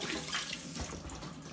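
Olive oil poured unmeasured into a pan while cooking Romanesco cauliflower, a steady, continuous liquid trickle with a splashy hiss lasting about a second and a half, moderately close, with no voices.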